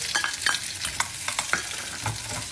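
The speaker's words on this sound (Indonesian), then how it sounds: "Kau di sebelah nak goreng bawang merah dengan halia." Shallots and ginger sizzle in hot oil in a pan while being stirred, with crackling bursts and scraping strokes repeating close up and no talk over them.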